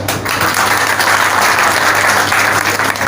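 Loud, dense applause from a crowd at a political gathering, steady and sustained throughout with no pauses.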